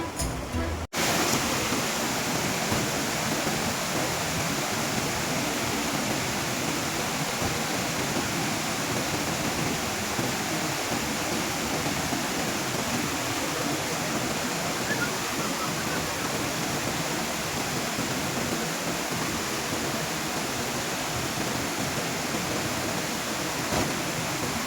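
Rushing water from the stream below Kalu waterfall in Malshej Ghat, a constant, even hiss that fills the entire stretch without pauses or talk.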